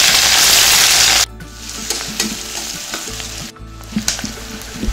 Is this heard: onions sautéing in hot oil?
yes